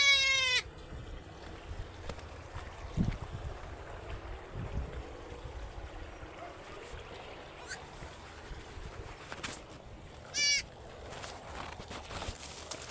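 Goats bleating on a farm, a few wavering bleats near the start and another around two-thirds through, over a quiet, rustling outdoor background with scattered low knocks.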